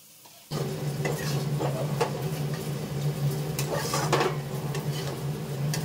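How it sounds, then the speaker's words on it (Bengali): Pieces of bhola, bhetki and katla fish fry in a pan, giving a steady, close sizzle with scattered clinks of a utensil against the pan. It starts abruptly after a brief quiet moment, and nobody speaks. "প্রথমে ওই জন্য মাছগুলোকে খুব ভালো করে ভেজে নেব"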